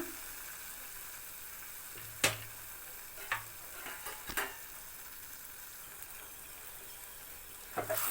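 Ivy gourd curry simmers in a pan with a soft constant sizzle, broken by a few sharp scrapes and clacks of a spoon stirring against the pan, close and fairly quiet.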